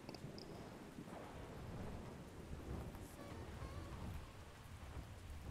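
Steady, dense rainfall with low thunder rumbling throughout a storm in ARK: Survival Ascended, continuous and fairly loud with no voices.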